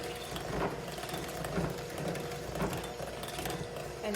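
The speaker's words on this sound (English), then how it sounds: "now we're gonna blend this together with our hand mixer" An electric hand mixer runs on low speed through thick brownie batter, giving a steady mechanical whir with faint rhythmic scraping, continuous and moderately quiet with no talk over it.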